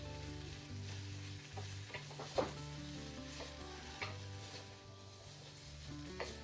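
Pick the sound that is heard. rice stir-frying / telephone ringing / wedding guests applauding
rice stir-frying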